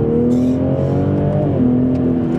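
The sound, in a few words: Toyota GR Supra engine accelerating under full throttle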